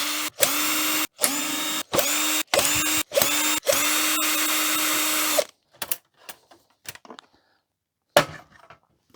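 A power screwdriver backs screws out of a vintage 1991 HP LaserJet 3P laser printer: six loud whirring bursts of varying length separated by brief pauses, followed by quieter clicks and rattles of loose parts.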